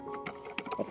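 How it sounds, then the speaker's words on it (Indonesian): Quiet, irregular clicks of keys pressed on a computer keyboard, a rapid patter of soft taps heard up close with no voices. "Saya akan ngetik juga"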